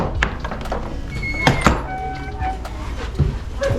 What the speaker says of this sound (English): A big door.